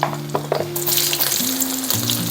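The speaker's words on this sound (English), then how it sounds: "We're gonna first saute the garlic." Sliced garlic sautéing in a pan gives a close, loud sizzle that rises and keeps crackling, with a few short knocks and tonal hums in the background, no talking.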